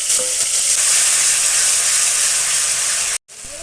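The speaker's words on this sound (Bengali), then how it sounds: "একটা শুকনো লঙ্কা, অল্প কিছু জিরে দিয়ে দিচ্ছি। বেটে রাখা মশলাটা দিয়ে দেবো।" Ground spice paste with dried red chilli and cumin hits hot oil in a pan while frying hilsa, a loud steady sizzle close by for about three seconds before a brief cut and the frying resumes.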